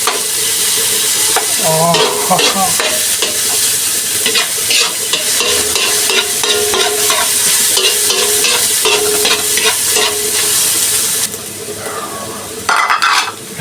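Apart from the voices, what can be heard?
onion and garlic sautéing in a frying pan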